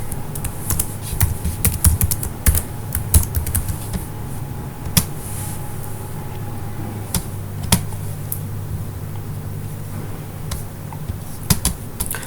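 A computer keyboard typed on in short bursts while entering login details, scattered clicky keystrokes at close range over a low steady hum, with pauses between runs.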